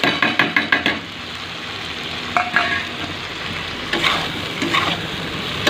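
Shukto vegetables with bori and bitter gourd fry in a pan with spices. A quick run of rhythmic stirring knocks opens over a loud, steady sizzle, followed by scattered scrapes.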